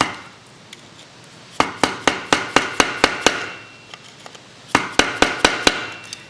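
A hammer beats a washer flat on a Yamaha DT80 enduro motorcycle, delivering two bursts of sharp, close metallic blows, about eight quick strikes, then a pause and five more.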